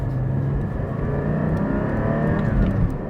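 A Porsche 718 GT4 engine revs hard in first gear and climbs in pitch, a loud continuous roar that swells toward the end, with no voices.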